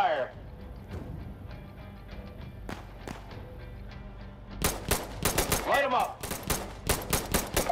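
Gunfire in a shooter video game, with sparse single shots early, then dense rapid automatic bursts, loud and close, while players call out.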